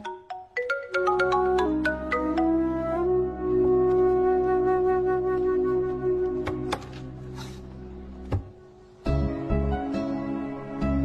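A melodic phone ringtone plays loudly and repeatedly, its tune looping over a steady tone, with a brief pause near the end before it resumes.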